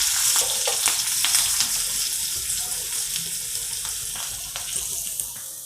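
Mustard seeds, chopped green chillies and asafoetida tempering in a teaspoon of hot oil, a steady close sizzle with scattered crackling pops as the seeds fry.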